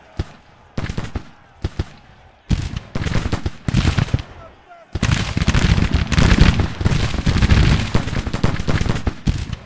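Musket volleys from a battalion in the American Civil War strategy game Grand Tactician: The Civil War, first scattered loud cracks and bursts, then a dense continuous crackle of massed gunfire.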